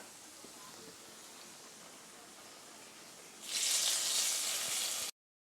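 Cashews and raisins sizzle in hot ghee with tomato jam, a soft frying hiss that swells into a loud, bright crackle for a couple of seconds near the end before cutting off abruptly; no talk.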